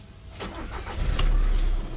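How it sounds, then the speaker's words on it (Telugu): The diesel engine of a 2018 Skoda Rapid cranks briefly and catches, settling into a low rumbling idle close by with a slight rise in loudness. "ఒకసారి ఇంజన్ కూడా స్టార్ట్ చేస్తాను"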